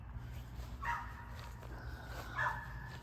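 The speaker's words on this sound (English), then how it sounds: "Oh, that's my neighbor's dog." A neighbor's dog barks a few times off in the distance near a garden bed, two short yelps standing out faintly over a steady low outdoor rumble with no talking.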